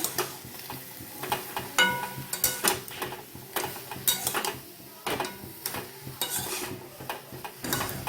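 Brinjal curry sautés in a pan with a little water, sizzling under frequent close scraping and clattering stirs of a utensil against the pot in quick uneven bursts.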